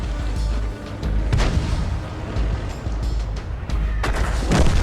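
Heavy artillery fire in a tank battle game on the Siegfried Line map, with deep booms and blasts that keep coming over a continuous low rumble, several loud impacts standing out close by.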